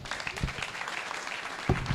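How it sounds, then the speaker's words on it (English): Audience applause at a finance conference in Kaduna, a dense crowd clapping steadily throughout with a few louder claps standing out near the end, moderately distant. "Please, a round of applause for him."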